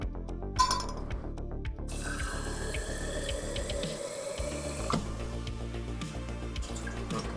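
Water runs from a kitchen faucet into a measuring cup while cooking apricot chicken, a steady splashing flow that shifts in pitch as the cup fills, with no talking.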